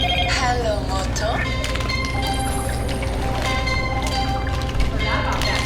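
A Motorola phone rings with its "Hello Moto" ringtone at a Narcan training session for seniors, a bright melodic tone over steady room noise and people talking nearby.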